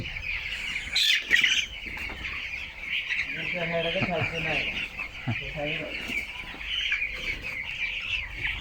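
Broiler chickens on a poultry farm, some of them sick and under medication, cluck and call in a steady flock chorus, with a brief wing flap near the start and people talking over the birds.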